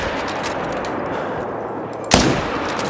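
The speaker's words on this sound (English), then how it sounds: "I do absolutely love the sound and the feeling that you get from shooting the 300 Magnum" A single loud .300 Magnum rifle shot in the hunting video game Call of the Wild cracks sharply after a steady outdoor background hiss, followed by a brief rumbling tail.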